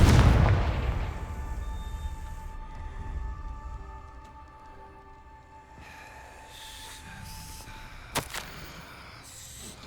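A Confringo fire spell bursts in Hogwarts Legacy, a heavy booming explosion up front that fades into a long rumbling tail, with a sharp crackle later and no talk over it.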